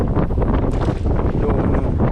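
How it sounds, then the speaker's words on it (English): Strong wind gusts across a beach mic in a loud, continuous roar with heavy low rumble and buffeting that swallows any other sound. "The wind is extremely high"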